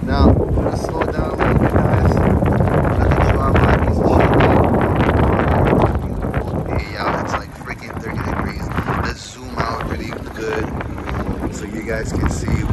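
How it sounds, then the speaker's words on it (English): A 14-foot Sportspal canoe pushed by a 2.5 HP Suzuki outboard motor runs across choppy lake water, a steady close motor drone mixed with wind buffeting and splashing, with someone talking over it. "Now I'm on the 14-foot Sportspal. Got the Suzuki motor."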